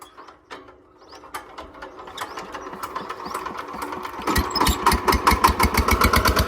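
A farm tractor engine that had been failing to start cranks and catches, sputtering unevenly at first before settling into a loud, fast, regular chugging rhythm nearby.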